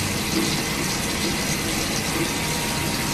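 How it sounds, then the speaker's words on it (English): Water gushes steadily from a tap, a loud, even hiss of running water with no break. "why would you want the water running?"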